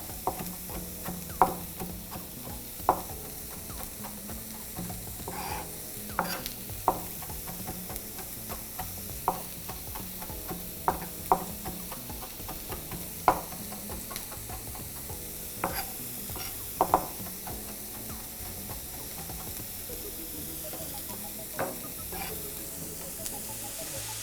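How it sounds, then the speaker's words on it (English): Corn, onions and garlic sautéing in a pan give a steady, fairly quiet sizzle, with frequent sharp scrapes and taps of a utensil stirring throughout. "Once the corn, the onions, and the garlic are sauteed very well and cooked"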